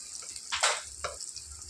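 Onions frying in a pan with ginger garlic paste being stirred in, quiet sizzling with two brief louder scrapes of stirring close by.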